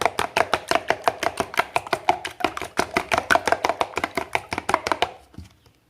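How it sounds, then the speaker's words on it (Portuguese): A spoon briskly beats whole eggs, yolk into white, for a corn couscous cake batter, a fast even run of about thirty sharp taps against a bowl that stops abruptly, close and with no talk. "já vou mexer aqui a gema junto com a clara"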